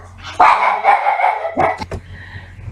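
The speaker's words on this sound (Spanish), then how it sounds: "Perdonen, mi perrita está ahí ladrando" A small dog barks several times in quick, sharp yaps close by, followed by quieter whimpering noises.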